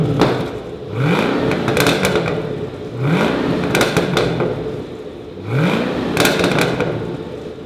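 A 2012 Chevrolet Camaro ZL1 engine revs in three strong, rising bursts, each sweeping up and holding before dropping back to a loud idle, close and alone with no talking.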